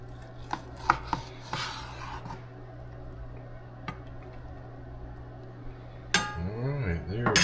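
A knife chops and presses through food on a board with a few sharp taps, then a louder crunching slice near the end, quiet surroundings.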